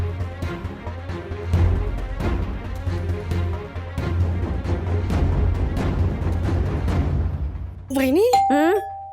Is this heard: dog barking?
no